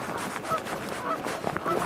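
Geese honk repeatedly in short nasal calls at a distance over steady outdoor ambient noise beside a waterway during a bass fishing tournament.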